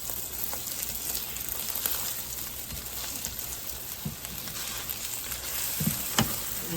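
Food frying in a skillet for a budget scrambled dish, giving a steady close sizzle and crackle throughout with a few louder pops and scrapes, no talking.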